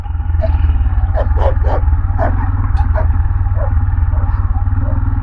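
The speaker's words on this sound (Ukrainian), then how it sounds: "Собаки нервуються на мотоцикли, це нормально." Several dogs bark in short bursts over the loud steady drone of a Tekken 250 motorcycle engine on a rural road, close by and repeated.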